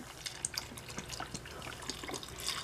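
Vodka poured from a freshly opened bottle into a container, giving a quiet, steady trickling splash that runs for a few seconds with no one talking.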